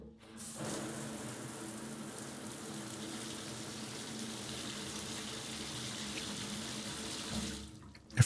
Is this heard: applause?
no